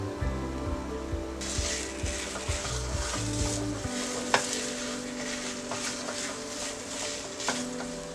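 Khandpoli mixture with a pinch of turmeric cooks in a pan over a gas flame, a steady close hiss with scattered spatula scrapes and clicks starting after a brief quiet moment, under low tonal background music.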